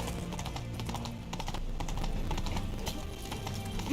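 Horse hooves clip-clopping in The Witcher 3, a steady walking rhythm of close hoof knocks over a low game ambience, no speech.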